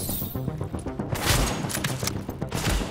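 Gunfire in The Division during a firefight at Grand Central Station, a rapid run of sharp shots and impacts with thuds and crackles, fairly loud and close, sounding like incoming rounds hitting around the player.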